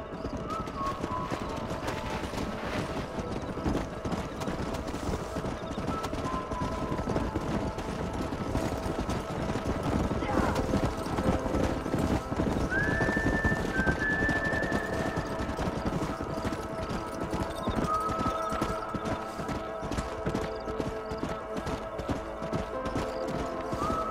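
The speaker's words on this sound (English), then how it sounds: "don't let those horses out of your sight" Horses trot in the Red Dead Redemption video game, a steady rapid clip-clop of hooves throughout with occasional whinnies, alongside faint background game sounds.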